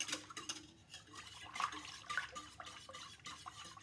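A whisk clatters rapidly against a pot of hot process soap mixture, giving irregular metallic scraping and sloshing strokes with a wet, liquid edge. The sound is close and moderately quiet, with no voices.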